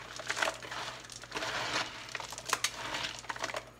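A hand squishes and mixes wet coconut fiber growing medium in a container, giving close, irregular crunching and squelching bursts with no talk.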